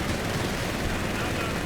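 Dense rumbling battle noise from artillery fire in the real-time strategy game Company of Heroes 3, a continuous loud wash of distant booms and blasts with no distinct pauses.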